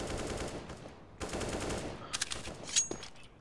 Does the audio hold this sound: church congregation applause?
no